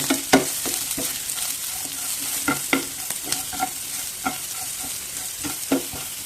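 Small okra pieces fry in a pan while a spoon stirs them, the steady sizzle broken by repeated scraping strokes against the metal, close up and without voices.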